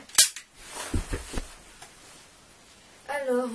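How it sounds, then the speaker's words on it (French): A toy pistol fires one sharp, loud crack near the start, followed by a person talking close by. "Tirez-moi une balle définitivement dans la tête"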